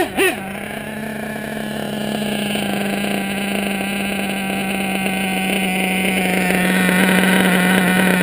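A Nova 28.8 nitro engine idles high and steady during break-in, with a loud, continuous buzzing drone that holds close and alone throughout.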